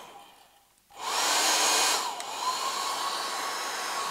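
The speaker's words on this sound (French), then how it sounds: "Je viens de découvrir qu'il y avait une position intermédiaire sur mon sèche-cheveux." Hair dryer switched on at an intermediate setting, starting after a quiet moment and then blowing as a loud, steady whoosh with a slight dip in pitch partway through.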